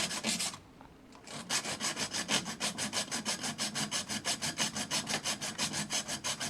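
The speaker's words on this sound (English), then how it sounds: "Using the hacksaw close up, you can see I've cut a spiral round the tube of the tip guide" Hacksaw cutting a spiral around the metal tube of a fishing rod tip guide, close and fast, even strokes after a brief start and pause, a rapid regular rasping that carries on to the end.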